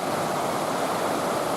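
Steady broadband rush of river water, Hurricane River near Pictured Rocks in October, flowing close by with constant even texture and no voices, a continuous wash like surf or a small falls.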